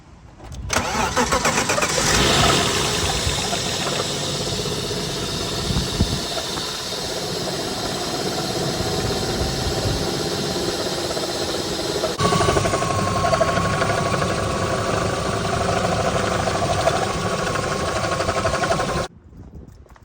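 A BMW E36 car engine, just refilled with coolant after a new thermostat and housing, cranks and catches, then idles steadily and loudly for the rest of the stretch with a slight change in tone partway through.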